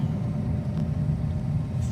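Daihatsu Hijet 4WD kei truck under way, a steady low engine rumble and road noise heard from inside the cab with no pauses.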